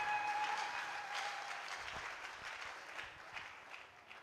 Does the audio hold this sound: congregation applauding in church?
yes